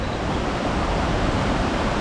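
Lone Creek Falls, a big waterfall in Sabie, pours in a steady, loud, full-bodied roar of rushing water that stays even and unbroken throughout, with no voices over it.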